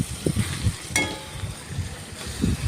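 Chickpeas slowly tipped into spiced oil in a cooking pan, giving a soft, low sizzle with faint stirring and scraping, fairly quiet and steady throughout.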